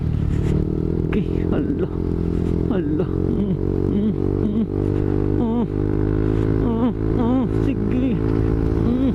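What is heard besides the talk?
motorcycle riding over a rough road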